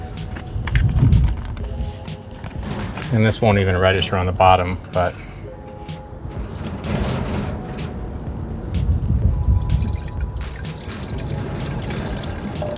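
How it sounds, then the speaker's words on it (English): Coolant pours and trickles from a spray bottle into a van's coolant reservoir in short bursts, with someone talking over parts of it. "Now I'm going to pour my spray bottle back in here"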